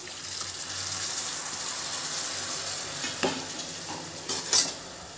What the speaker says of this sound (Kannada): ಈಗ ಹುಣಸೆಹಣ್ಣು ರಸ ಹಾಕ್ತಾಯಿದ್ದೀನಿ.